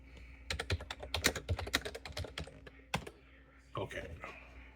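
Fingers typing on a computer keyboard in a quick irregular burst of close key clicks, then a pause and a few more keystrokes, with a faint steady hum underneath.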